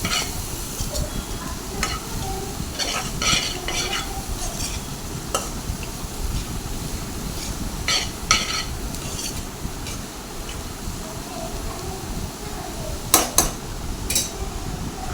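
Ivy gourd and onions are stirred in a frying pan, with a soft continuous sizzle under repeated scraping and clinking of a spoon against the pan, close and without talk.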